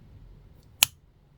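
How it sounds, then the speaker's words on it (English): A single sharp scissor snip cuts crochet yarn ends on a small Halloween cauldron keyring, close and isolated against a quiet room. "Snip them so you've got less than a centimetre left"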